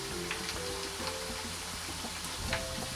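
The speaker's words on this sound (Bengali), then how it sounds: "আমি এখন এখানে বাদাম ভেজে নিচ্ছি।" Peanuts fry in oil for homemade chanachur, making a dense, steady sizzle with fine crackles close by, constant throughout and with no voices.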